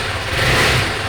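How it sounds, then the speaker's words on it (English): A KTM 390 Adventure motorcycle with a standard exhaust runs close by, its steady engine note swelling slightly as it revs, alone with no talk. "Let's have a listen to the exhaust note, because this is a standard one"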